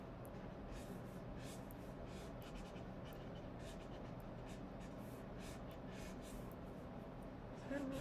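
Pencil quick sketching on paper, a faint soft scratching of strokes in short repeated bursts over a quiet background hum.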